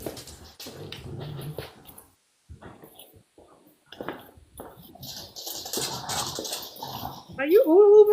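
A dog whimpers and growls in the background of a room, with high whines building toward the end. People talk over it in the first half.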